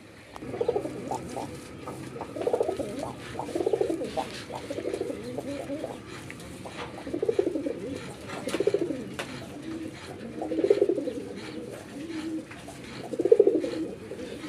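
Pigeons coo in a steady series of soft, throaty calls, about every second or two, with faint background noise between them.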